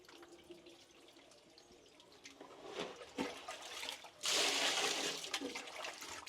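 Finger millet grains being rinsed in water by hand outdoors, with soft sloshing and trickling that swells into a louder, sustained pour of water near the end.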